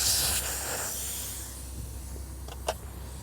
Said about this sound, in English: First thing you want to do is remove the air from the tire and the tube